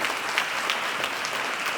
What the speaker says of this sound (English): A bigger round of applause for the panelists,